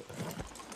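Horse hooves in a Game of Thrones scene: a short burst of clip-clop footfalls at moderate level, mixed with other scene sounds.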